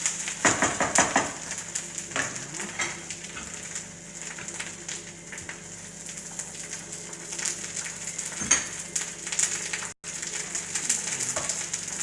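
Spinach frying in a generous amount of oil, a continuous bright sizzle running throughout with occasional clatters of stirring, close and steady with no one speaking.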